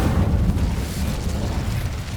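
A fiery Incendio spell blast in the Hogwarts Legacy video game, a loud, steady roaring burst with deep low rumble that lasts the whole moment.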